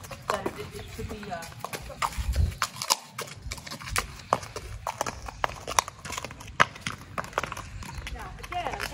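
Horse hooves clip-clop at a walk during a bitless ride, an uneven stream of close, dull thuds running throughout while a rider speaks over them.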